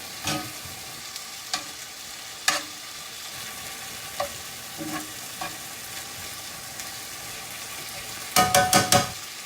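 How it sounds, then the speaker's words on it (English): Browned onions simmer in a pan for a Philly flatbread topping, a quiet continuous sizzle with scattered spoon taps and scrapes, ending in a quick burst of several louder clinks, close by with no talking. "I'm going to add the onions back, and let that simmer for just a little bit"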